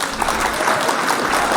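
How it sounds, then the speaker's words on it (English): Audience applause for Monica at a live news show, steady close clapping filling the brief moment. "Y'all clap for Monica."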